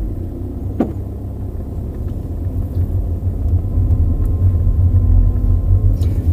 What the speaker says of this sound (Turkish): Ufak süratlerde motor sesi geliyor